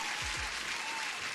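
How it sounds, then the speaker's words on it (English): An applause sound effect plays steadily during a futures-trading livestream, a dense wash of clapping that holds at an even level from start to finish with no talk over it. "And applause again for everyone who's joining."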